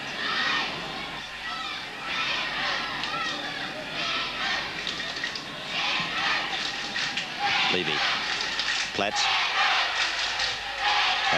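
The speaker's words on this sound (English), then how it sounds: "Have a listen to that crowd." A home crowd roars at a 1981 Penrith versus Manly rugby league match in Panther country, a loud, sustained wash of cheering throughout while a commentator calls out player names over it.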